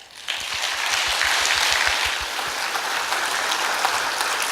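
Audience applause at an international symposium of a 2016 eco-friendly design fair, following a professor's lecture: steady, dense clapping from a large hall crowd starting abruptly and holding at even loudness throughout.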